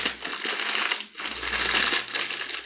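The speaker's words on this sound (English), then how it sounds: "just open it up and then kind of crush it in the bag" Frozen food is crushed by hand inside a plastic bag, two long bursts of loud, close crackling and crunching split by a brief pause.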